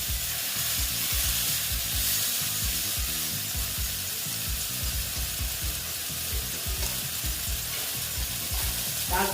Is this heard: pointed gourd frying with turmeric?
yes